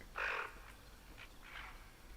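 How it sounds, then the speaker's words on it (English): In a hunting game, a tufted duck gives a couple of raspy, faint calls, a louder one first and then a softer pair, over quiet ambience. "We got a duck coming in."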